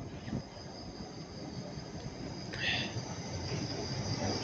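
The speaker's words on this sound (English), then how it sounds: "That's the 1445 Great Western Railway service to Plymouth, running about 7 minutes late." A Great Western Railway passenger train bound for Plymouth running through a station, with a steady rumble of wheels on rail and a brief high squeal partway through, heard at moderate distance.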